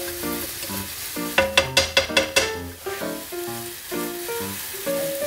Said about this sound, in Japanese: こうフライパンをこそげながらしっかりしっかり炒めていく感じですね